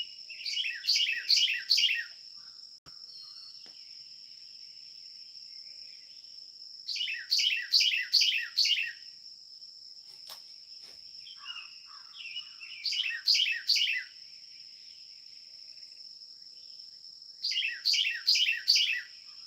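A small bird repeats a rapid, high-pitched chirping phrase in four bursts a few seconds apart, with a thin insect-like trill continuing between them.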